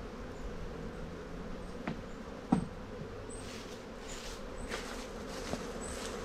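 Honey bees buzzing around an open hive on harvest day at an apiary, a constant quiet droning hum with individual bees zipping close past now and then, plus a few faint knocks of handling.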